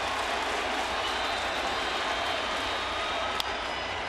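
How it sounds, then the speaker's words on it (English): Big ballpark crowd at a Mets–Yankees baseball game swelling into a loud, steady roar of cheering and applause that fills the whole stretch, with a brief sharp accent near the end. "Big crowd getting loud."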